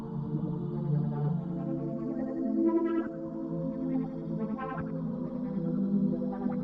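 A Juno arpeggiator pattern runs through a Shaperbox filter over dark, dissonant pad chords in a trap-style production, with rippling, echoing repeated notes that swell and sweep, steady and fairly loud, with no voices.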